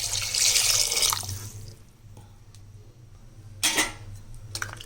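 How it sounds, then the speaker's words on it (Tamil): Water is poured into a pot for mutton bone soup, a loud splashing rush that tapers after about a second, followed by quieter kitchen clinks and a brief clatter. "நான் ஒரு 4 டம்ளர் தண்ணி விட்டுக்கிறேன்"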